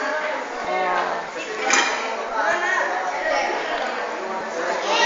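Dishes clink and water splashes while plates are washed by hand, with nearby chatter and voices running throughout.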